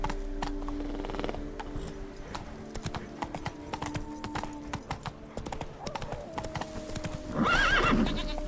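A ridden horse gallops in The Witcher 3, its hooves pounding in a fast, steady rhythm up close, with a loud neigh near the end.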